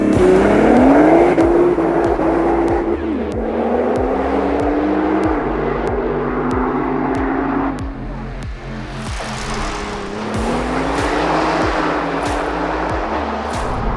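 A Nissan GT-R Track Edition with a twin-turbo 570 hp engine and all-wheel drive accelerates hard, loud and close, its engine note climbing repeatedly through the gears with brief shift breaks between each rising pull.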